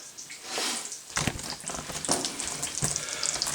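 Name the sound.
food frying on the stove for a breakfast sub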